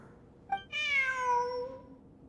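A cat meows once in the video game Genshin Impact, a short chirp leading into a clear, drawn-out mew that trails off, close and alone against a quiet background hum.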